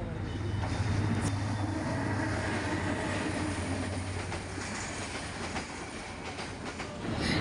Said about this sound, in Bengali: দেখেন রেলগাড়ির জ্যামে বসে আছি। এখন রেলগাড়ি যাবে